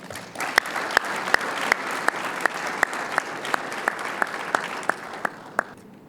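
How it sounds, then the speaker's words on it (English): A golf awards luncheon audience applauds steadily, with individual sharp claps standing out over a dense, even wash of clapping that continues throughout. "Let's join me in a round of applause for Mr. Evan Smith."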